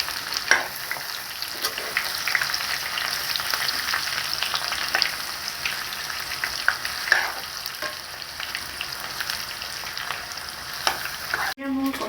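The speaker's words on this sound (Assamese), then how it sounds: "মই এতিয়া ইয়াত ৰঙা হোৱালৈকে ভাজিছোঁ" Jackfruit pieces for an onion-free, garlic-free kathal masala fry sizzle steadily in a pan until browned, with a continuous close crackle, stirring scrapes and occasional clicks of the spoon against the pan.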